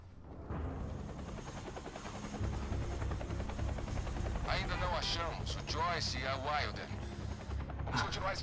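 A helicopter in the video game Quantum Break throbs with a continuous rotor drone, with bursts of gunfire and voices talking over it midway.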